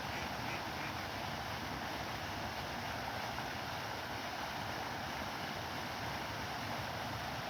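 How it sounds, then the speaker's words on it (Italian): Wild ducks resting on open water quack intermittently and softly, half-buried in a steady wash of wind and water noise that runs throughout. "è come che le anatre selvatiche si stanno riposando."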